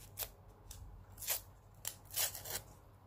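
Washi tape is torn by hand in several short, crisp rips spaced a second or so apart, close and quiet, with no voices.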